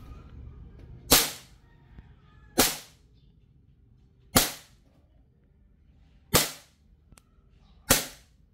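Airsoft gun fitted with a T238 nano flame tracer unit in flash mode, firing five sharp single shots, each a crisp close crack spaced a second or more apart over quiet background.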